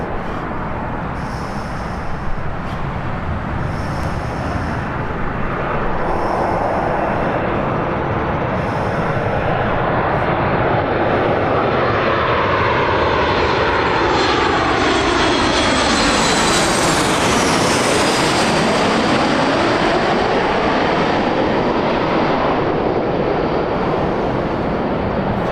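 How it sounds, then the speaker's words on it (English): A Ryanair airliner landing at Birmingham airport roars loudly and continuously, its engine noise swelling and sweeping in pitch as it passes close by. "Right the Ryanair landing."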